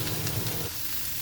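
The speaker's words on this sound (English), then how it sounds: "Okay, so our veggies are nice and sauteed." Sauteed vegetables sizzle steadily in a hot pan, seasoned with pink salt and pepper; a loud, close, continuous frying hiss with no voices.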